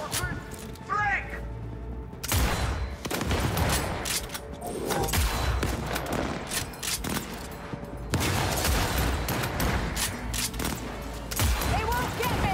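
Heavy firefight in Cyberpunk 2077 Phantom Liberty, with dense bursts of rapid automatic gunfire and sharp shots crackling in clusters, broken by a short lull and mechanical clatter, then loud volleys again.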